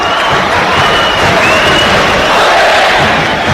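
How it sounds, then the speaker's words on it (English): Loud, dense roar of a football stadium crowd at the Armenia vs Wales match, a continuous wash of cheering and chanting with no breaks. "the crowd really into this now"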